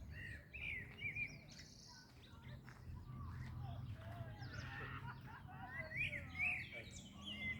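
Small birds chirp and tweet in short, bright calls scattered throughout, over a low steady background hum at moderate distance.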